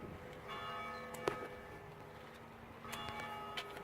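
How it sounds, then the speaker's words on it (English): Church bells ring faintly in the distance on a quiet day after rain, with a few separated strikes over a soft outdoor background. "There's the church bells."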